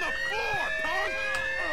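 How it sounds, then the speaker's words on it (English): Police car sirens in GTA 5 wail in overlapping, sweeping tones, steady and fairly loud across a short stretch, with voices faintly underneath. "Got more backup units coming. You can hear the sirens."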